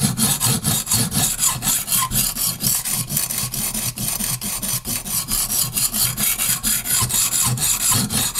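A kitchen knife is drawn back and forth on a HORL 2 rolling sharpener, giving a steady, close, loud rasping grind in quick repeated strokes with no pauses throughout.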